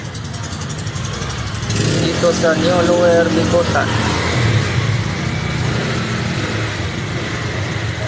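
Road traffic in New Lower Bicutan in the Philippines, with car and motorcycle engines rumbling and revving close by in a steady flow while someone talks over it.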